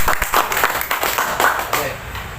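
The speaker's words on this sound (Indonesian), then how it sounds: "Kita tepuk tangan lah" An audience claps together at a business presentation, a short burst of applause at moderate volume that tapers off toward the end.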